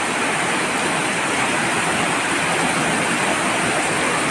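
Heavy flood water rushing around a temple in Maharashtra, a loud, unbroken roaring wash of noise that fills the whole clip with no voices.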